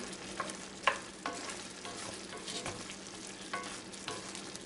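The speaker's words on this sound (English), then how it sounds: "Next, we're going to add our seasonings. Mix that in." Seasonings being stirred into creamed kohlrabi in a pan, with a few scraping and clinking spoon strokes over a soft, steady sizzle and no talking.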